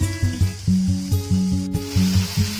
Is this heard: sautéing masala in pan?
yes